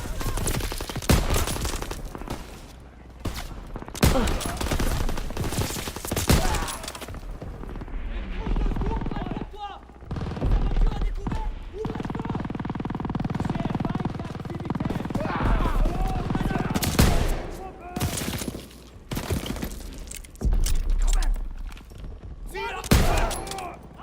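Gunfire in a WWII shooter game: rapid bursts of rifle and machine-gun fire crackle loudly and repeatedly, with dull booms between volleys and players talking over the shooting.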